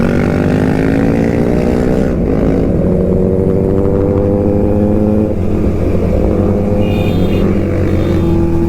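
Several powerful superbike engines, including a Kawasaki ZX-10 and a Benelli, rev and drone loudly and continuously nearby in Kolkata, pitches rising and shifting as they accelerate together.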